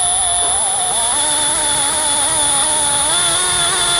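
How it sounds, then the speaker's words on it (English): A steady high-pitched power drill whine with a 1/2-inch bit drilling through metal runs continuously, its pitch wavering slightly as the bit bites, loud and close, then cuts off at the end. "Now we'll go ahead and drill it out the rest of the way with our 1/2-inch bit."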